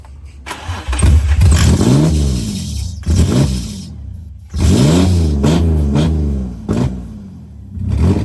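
A drift-built Honda S2000 cranks and fires after a dose of starter fluid, then revs hard in several loud, close bursts that rise and fall with brief pauses between, with no talking over the engine.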